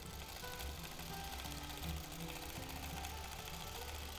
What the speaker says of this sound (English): Sewing slowly and carefully over my pins, using my fingertips to push any excess fabric that I might have under the needle